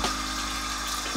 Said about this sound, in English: I'm rinsing this with cold water